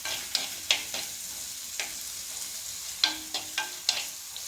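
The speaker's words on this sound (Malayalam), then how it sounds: "നമുക്ക് ആദ്യം ഇട്ട് കൊടുക്കേണ്ടത് ഈ പച്ചമുളകും സവാളയും കൂടെയാണ്. അപ്പോൾ ഇത് നമുക്ക് നന്നായിട്ടൊന്ന് ഇളക്കി കൊടുക്കാം." Green chilies and onion fry in a pan for a palkappa tapioca dish, a soft continuous sizzle broken by several sharp spoon scrapes and clicks as they are stirred, close and with no voices.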